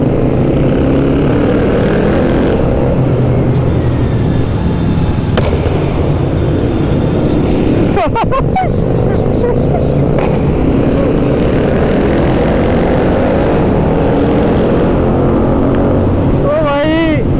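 A GT 650 motorcycle engine and exhaust drone steadily while riding on a mountain road near Kullu, loud and close with heavy wind rush, and a voice speaks briefly over it.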